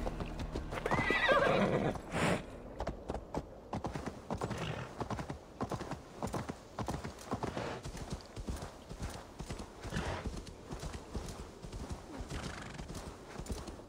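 Rapid hoofbeats clop at a gallop in the game Assassin's Creed Valhalla, opening with a loud horse whinny, then the steady clip-clop rhythm continues throughout at close range.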